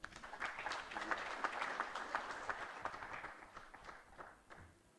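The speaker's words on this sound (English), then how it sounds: "Can we clap for him?" Conference audience breaks into applause, a quiet, distant patter of many hands clapping that swells briefly and then thins out over a few seconds.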